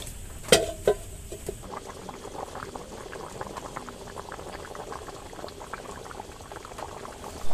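Mutton curry with potatoes bubbles in a covered pot in a steady, close, gurgling boil. A couple of sharp knocks come near the start, and the bubbling runs on without speech.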